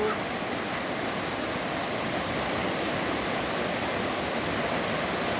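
Phalguni river in full spate after heavy rain, its water roaring loudly and steadily as a continuous broadband rush with no breaks.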